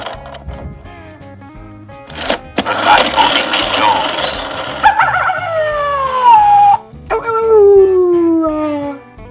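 A Fisher-Price See 'n Say The Farmer Says toy plays a long, descending coyote howl after some clicks and a noisy burst, then a second drawn-out howl; a voice speaks briefly amid it.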